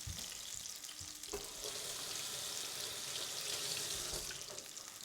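Onions sizzle and fry in a pan while cooking a garden-vegetable shakshuka for breakfast, giving a steady, quiet hiss with faint stirring noises and no talking.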